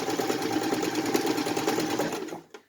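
An old sewing machine hums in a fast, steady rhythmic stitch up close, then slows and stops with a brief click at the end.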